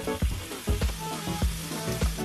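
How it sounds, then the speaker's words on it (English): Turkey steaks fry in a pan with a steady close sizzle, broken by a few soft knocks and thumps as the meat settles or is moved. "I'm about to cook some turkey steaks"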